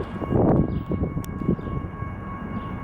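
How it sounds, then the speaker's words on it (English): A westbound BNSF intermodal freight train led by a GE Evolution Series locomotive rumbles past nearby, a steady low roar with rattling and a faint tonal hum from crossing signals. "Here we have a westbound BNSF freight train,"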